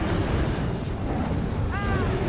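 A dragon in the Lego Harry Potter Years 1-4 video game breathes fire, a continuous loud roaring rush of flame lasting a couple of seconds with a brief whistling tone near the end.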